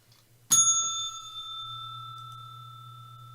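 A single bright bell strike marking the market session open on an S&P 500 Emini futures broadcast, sharp attack then a long ringing tone that sustains and slowly fades, with a low hum underneath.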